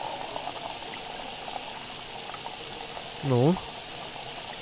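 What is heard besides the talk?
pouring water in the video game Cooking Simulator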